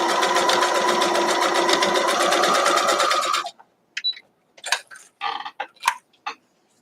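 A sewing machine runs fast and steady, stitching a seam on a Nordic-style sweater, then stops abruptly, followed by a few short bursts of handling clatter and rustling close by.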